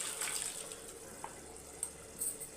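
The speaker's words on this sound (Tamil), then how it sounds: "இப்போ இதில் ஒரு கிளாஸ் தண்ணி ஊற்றி நல்லா மிக்ஸ் பண்ணிவிட்டு இதில் சேர்த்துக்கலாம்" Water streams into a dish for a curry mixture, a steady close splashing pour that runs faintly on without voices.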